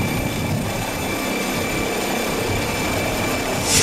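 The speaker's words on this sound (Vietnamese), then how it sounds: "Ambulance helicopter." An ambulance helicopter's steady, droning roar holds at a constant level throughout, with no voices.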